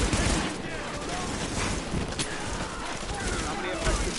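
Gunfire erupts in The Division video game during a firefight at a West 47th parking lot, a dense, continuous crackle of rapid shots and bursts filling the scene under speech and game chatter.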